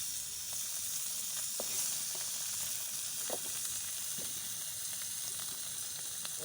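Food fries in a pan over an outdoor fire, a soft, steady sizzle with occasional small pops and crackles, faint and continuous with no talking.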